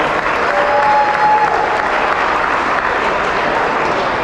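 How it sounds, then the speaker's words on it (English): A crowd at a 2021 St. Louis Shave to Save fundraising event gives a full round of applause, loud and steady dense clapping that continues without a break. "So please give them a round of applause."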